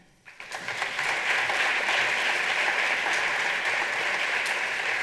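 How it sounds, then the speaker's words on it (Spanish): An audience at the Ones Mediterrània 2020 awards gala breaks into loud, sustained applause. It starts after a brief quiet moment and swells within a second into a dense, steady wash of clapping. "Un fort aplaudiment per ell."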